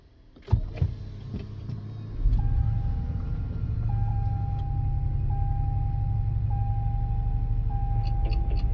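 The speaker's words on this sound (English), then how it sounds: "Now let's go ahead and start up the vehicle." A car engine cranks over with a short burst, catches, and settles into a steady low idle that runs on, with a faint repeating chime sounding over it from the dashboard.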